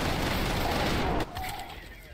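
Rifle fire in the shooter game Trepang2, a dense, loud burst of rapid shots that cuts off abruptly, followed by softer trailing reverberation, with a voice talking over it.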